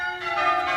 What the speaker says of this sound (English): Just listen to those bells. Aren't they magnificent?